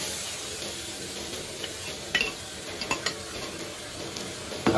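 Spinach stir-frying in a wok with garlic, ginger and scallion, a steady loud sizzle with a spatula scraping and clinking against the pan a few times.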